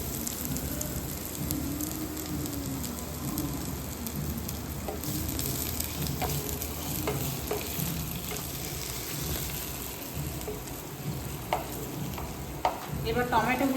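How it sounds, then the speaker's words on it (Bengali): Onions fry in hot oil while cooking paneer bhujia, a steady close sizzle with stirring scrapes and clinks of a utensil against the pan, no talk. "তেলেতে পেঁয়াজগুলো দিয়ে দিলাম"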